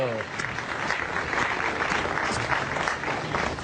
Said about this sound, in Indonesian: Tepuk tangan untuk Kojek dan Jefflo.